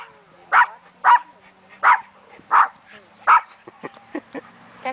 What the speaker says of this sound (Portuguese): Big, você não quis latir, não?